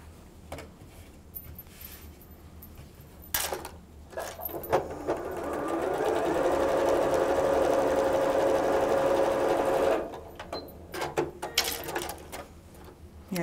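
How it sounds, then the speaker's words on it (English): Sewing machine stitching gingham quilt pieces, a steady whirring run of several seconds with a faint tonal whine, framed by handling rustles and fabric shuffling before and after, no talk. "I'm going to flip this over and we're going to sew that."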